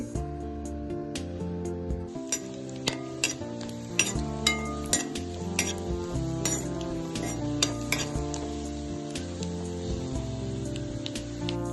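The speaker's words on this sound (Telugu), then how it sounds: "ఇలా ఆయిల్ వేసి ఆయిల్ బాగా కాగాక సిమ్లో పెట్టి వేయించుకోవాలి" Crushed pieces frying on low heat in hot oil while making Nellore-style dry mutton, a steady sizzle broken by repeated clanks and scrapes of a utensil against the pan, with background music underneath.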